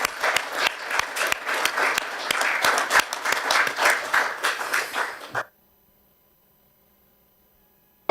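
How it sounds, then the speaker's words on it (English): Council chamber audience applauding after a councillor's maiden speech at a Basingstoke council meeting, a brisk burst of many hands clapping for about five seconds before cutting off to near silence. "So can you give her a clap"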